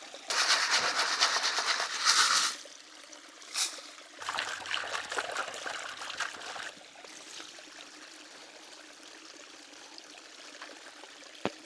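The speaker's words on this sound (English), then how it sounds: "Just came around the corner and found this beautiful little waterfall here." A small waterfall trickles and splashes in a Utah slot canyon, a steady watery wash that is louder at first and then settles to a quieter, continuous trickle with occasional drips.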